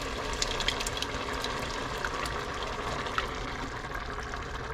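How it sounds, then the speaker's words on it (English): Can of crushed tomatoes poured into a cooking pot, a steady thick wet gushing, close and continuous for a few seconds, with a faint sizzling bed underneath. "Add our full can of crushed tomatoes."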